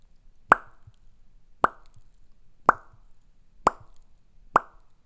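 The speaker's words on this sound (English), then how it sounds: "a pop of my lips" Lip pops made by a person's mouth, five sharp, evenly spaced pops about a second apart, close and dry against near silence.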